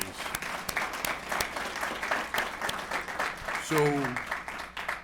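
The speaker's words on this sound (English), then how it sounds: "I think we should give them one more round of applause" An audience in a council chamber applauds a women's choir at a municipal MLK ceremony in Attleboro, a steady patter of clapping with a brief voice rising near the end.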